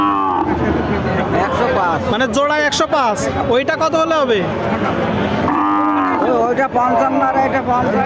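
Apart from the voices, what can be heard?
cattle mooing at a cattle market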